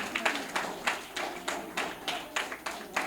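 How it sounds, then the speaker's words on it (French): An audience at a charity event claps for Amikole Fall in a steady, evenly spaced rhythm of sharp, moderately loud claps. "Applaudissez Amikole Fall."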